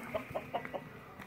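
Chicken or rooster clucking in a short series of four or five quick, mid-pitched clucks, fairly close and moderately loud, with no talking over it.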